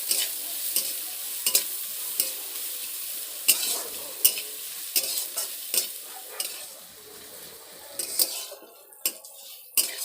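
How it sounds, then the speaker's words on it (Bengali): Chopped onion and green chilli fry in a pan with a bright, constant sizzle, close by, as a metal spatula stirs with repeated sharp scrapes and clinks against the pan, the sizzle easing briefly near the end, with no talking. "পেঁয়াজ আর কাঁচা লঙ্কাটা একটু ভেজে নিয়েছি"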